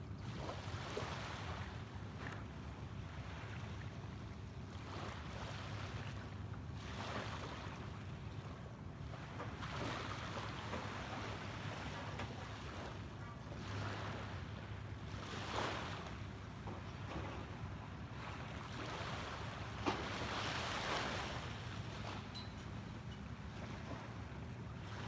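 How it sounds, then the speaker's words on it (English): Ocean waves washing onto a shore, heard as a steady broadband wash with gentle surges every few seconds, mixed with some wind noise and no talking. "soak in these colors, the sounds of the waves,"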